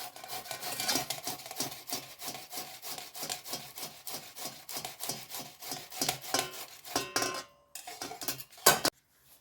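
Potatoes are grated by hand, a fast, even run of rasping strokes, each one a short scraping burst, loud and close, before the rhythm slows and stops near the end.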